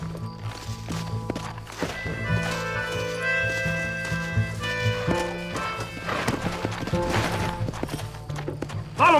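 Horses galloping in the video game Red Dead Redemption, a continuous rhythmic hoof clatter with a neigh, layered over a sustained musical score.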